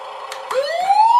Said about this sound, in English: Push the button again, we get a siren.